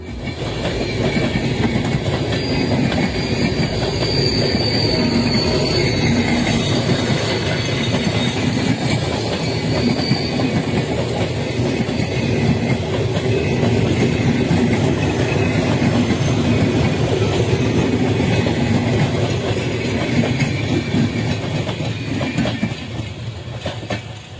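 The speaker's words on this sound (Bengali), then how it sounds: "মধুমতি এক্সপ্রেস ট্রেনটি পিটি ইনকা দুই সালের মডেলের কোচ নিয়ে চলাচল করছে" The Madhumati Express, a Bangladeshi intercity train running with PT Inka coaches, rolls past continuously and loudly with a steady rumbling clickety-clack of wheels on rail that holds for the whole stretch.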